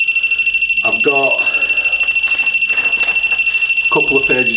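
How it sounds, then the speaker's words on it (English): Alarm on a ghost-hunting teddy bear sounding as a steady, piercing high-pitched tone throughout, loud and continuous beneath bursts of talk. "the alarm goes off"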